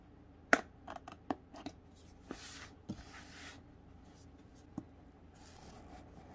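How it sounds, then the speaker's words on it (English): Scissors or a blade cut through the side of a cardboard box holding a USB microphone, giving a few sharp snips and scraping rustles. The sounds are close, scattered and fairly quiet, with gaps between them. "And once we cut the side,"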